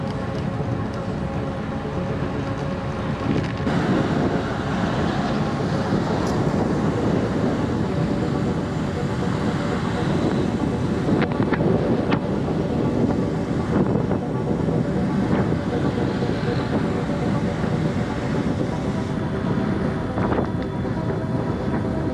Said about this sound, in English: Can you hear that? That's the wind.